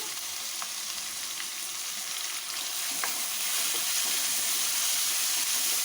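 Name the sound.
chopped onions added to frying ginger and garlic, sizzling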